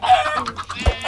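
Chickens in Minecraft give short, close clucks in a quick irregular series, with a soft low thump near the end and no voices.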